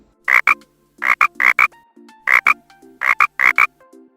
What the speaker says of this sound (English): the sound of frog